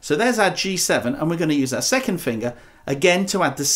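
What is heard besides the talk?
No everyday noises stand out.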